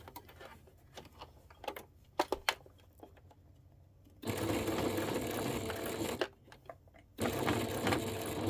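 A sewing machine stitches a water bottle holder, with soft clicks and fabric handling first, then two loud steady runs of rapid stitching broken by a short pause.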